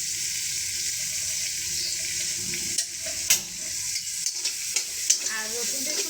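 Garlic and onion hitting hot oil in a pan for cooking greens, a close, steady sizzle with a series of stirring and scraping clicks from a utensil, no talking.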